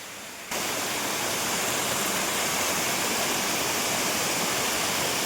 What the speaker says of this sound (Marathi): हेच आपलं एक छोटासा इथे धबधबा आहे, वॉटरफॉल आहे